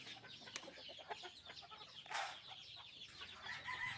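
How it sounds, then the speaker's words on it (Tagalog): Hungry chicks at feeding time near a brood hen, chirping and peeping noisily in a busy, overlapping chorus with occasional louder clucks and a brief flutter, close and steady throughout. "Maiingay na ang mga sisiw, mga gutom na."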